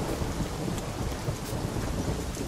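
A thunderstorm in the video game The Witcher 3 pours dense, steady rain with a low rumbling undertone, loud and continuous with no voices.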